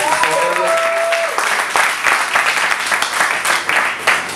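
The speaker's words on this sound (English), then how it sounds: "Give a round of applause for the panelists." Loud crowd applause for the panelists at a music networking event, dense clapping with a few whoops, a brief tonal whistle or feedback early on, the clapping swelling and continuing throughout.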